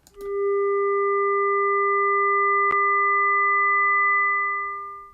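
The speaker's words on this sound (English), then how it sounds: "that combination of partials will give us something that sounds a little bit more like a clarinet" A synthesized tone built from odd partials gives a hollow, clarinet-like sustained note with a soft onset, held steadily for several seconds before tapering off, with a tiny click midway.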